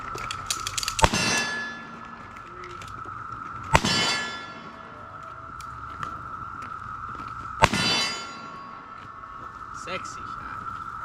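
A revolver fired one-handed at an outdoor shooting range: three sharp, loud reports spaced a few seconds apart, each ringing briefly, over a steady hum with people talking in between.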